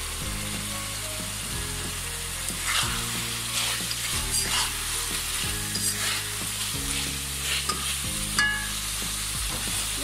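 Fish fries in a pan with green chilies just added, hissing steadily while a utensil scrapes and stirs in repeated strokes. A low rhythmic hum runs underneath, the sound is close and continuous, and there is no talking.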